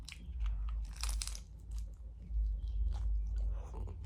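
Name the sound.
biting crunchy fried tortilla chicken tostada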